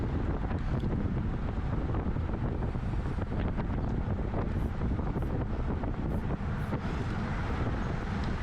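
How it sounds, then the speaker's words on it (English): Steady, roaring wind buffets the microphone throughout at a Cat 3/4 criterium bike race in Costa Mesa, a loud, continuous low rumble with gusty fluctuations and no clear voices. "the wind is coming from the left to the right"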